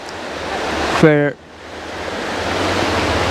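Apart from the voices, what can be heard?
rivers flowing together at a river confluence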